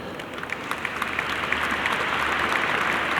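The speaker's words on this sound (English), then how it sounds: "Holding the line of tax is always worth a round of applause" Applause from a large audience at a city state-of-the-city address in Bridgeport, steady dense clapping that builds slightly and holds for about three seconds with no speech over it.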